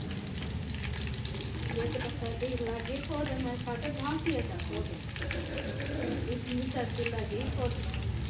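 Browned onions frying in a pan while red chili is added and stirred in, giving a steady, close sizzle and crackle with stirring scrapes, and a voice talking over it.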